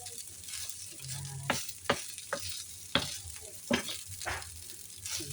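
Fried rice stir-frying in a hot pan, a steady sizzle broken by repeated scraping clanks of a spatula against metal.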